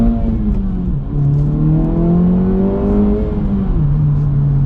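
A manual Acura Integra Type S engine pulls hard through the revs, its tone rising, dropping briefly at a gear change, then climbing again, loud and close.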